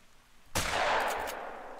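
A 12 gauge slug fires at a wild boar in the hunting game Call of the Wild, one sharp, loud shot that cracks out of near silence and trails off into a long rolling echo.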